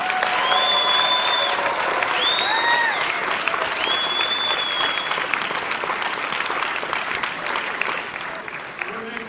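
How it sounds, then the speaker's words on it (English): Union rally crowd at a pre-lobby gathering applauds itself, sustained dense clapping with several whistles and cheers rising over it, voices mixed in throughout. "Give yourself a round of applause."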